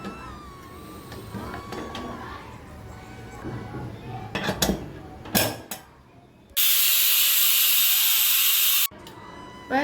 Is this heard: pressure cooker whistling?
yes